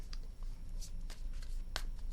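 Tarot cards being shuffled by hand, with a few quick papery riffles and slaps standing out over a steady low background hum, close and fairly soft.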